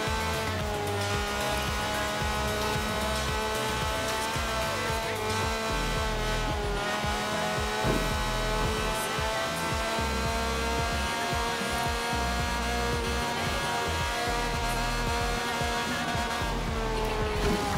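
A car driven in the Forza Horizon 4 video game gives a continuous loud engine drone with a steady rasping rhythm and occasional tire noise, sustained throughout with no talk.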